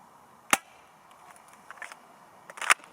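Shots from a CZ75 SP-01 Shadow airsoft pistol during an accuracy test, two sharp snapping reports about two seconds apart with faint clicks and rattles between them, heard alone with no talking.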